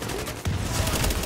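Bursts of automatic gunfire from The Division crackle loudly in rapid fusillades, with a sharp heavy volley cutting in midway and continuing without pause.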